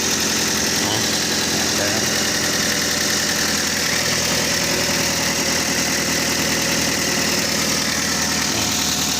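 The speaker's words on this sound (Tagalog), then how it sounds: "grabe parang mawawarak ayun good na siya oh" Toyota Vios engine with a loud fault when accelerating runs as a steady, rough mechanical drone with a faint knock and vibration, heard close throughout while someone speaks at times.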